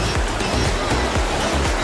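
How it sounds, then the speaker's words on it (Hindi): Waterfall flowing beside a cave temple, a continuous dense rushing and splashing of water, steady and close, with no speech. "और देखिए पास में एक झरना बह रहा है"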